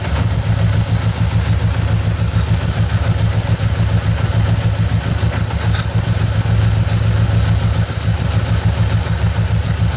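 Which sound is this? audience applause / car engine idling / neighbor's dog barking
car engine idling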